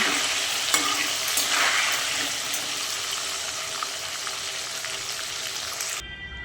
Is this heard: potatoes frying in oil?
yes